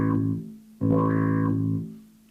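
A bass guitar played through an effects pedal's chip gives two short, sustained tones with a buzzy, processed character, the second note louder and longer before fading out, with no talking.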